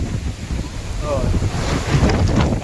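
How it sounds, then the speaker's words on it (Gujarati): Strong gusting storm wind in Odisha roars and buffets against the microphone, loud and continuous with a surging, rushing quality. "ફૂલ વાવાઝોડું આવ્યું છે."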